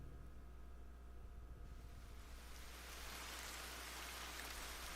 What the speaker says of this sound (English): Will the rain finally end?